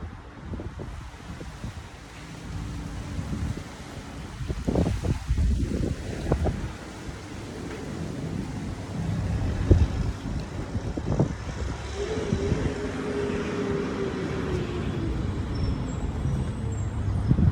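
Wind buffets an outdoor microphone with low rumbling gusts and a few thumps, steady and fairly loud throughout and with no speech.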